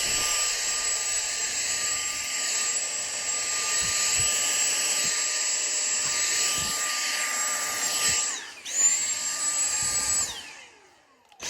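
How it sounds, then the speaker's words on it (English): A vacuum cleaner whines steadily while sucking up small bits of debris left after installing a corner-mount cat scratcher, with brief pitch dips and rattles as pieces pass through before it shuts off. "we'll bust out the vacuum and get all those little bits"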